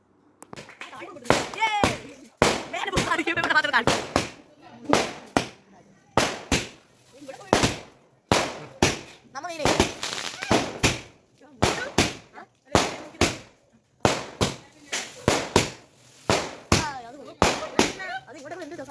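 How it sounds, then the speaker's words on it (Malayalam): Firecrackers burst at a New Year celebration in a long irregular string of sharp, loud bangs and crackling pops, some in quick clusters, with people's voices heard intermittently between the blasts. "ഇതൊക്കെ കഴിഞ്ഞ് പടക്കം പൊട്ടിക്കലും കൂടി ഉണ്ടായിരുന്നു കേട്ടോ"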